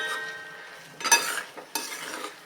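Spoon scraping and stirring potato and spinach curry as it sautés in a pan, giving soft sizzling with a few sharp metallic clinks of utensil against the pan, up close and moderately quiet.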